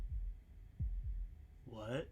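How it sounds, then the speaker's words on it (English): Heartbeat in the video game Slay the Princess, a few deep thuds spaced unevenly over a low hum, followed by a brief spoken word. "That was the sound of a heartbeat"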